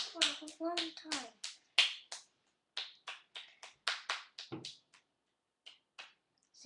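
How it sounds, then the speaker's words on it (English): A child claps repeatedly at close range, a long run of sharp, slightly uneven slaps with brief gaps, mixed with a bit of child vocalizing near the start. "Clap more. Clap for a long time."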